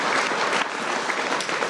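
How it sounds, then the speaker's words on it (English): An evening program's audience applauds a panel with dense, even clapping close by for a couple of seconds. "Let's give them another round of applause for what they were able to share with us tonight."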